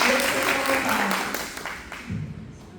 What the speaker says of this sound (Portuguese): E as palmas louvam ao Senhor, glória a Deus, aleluia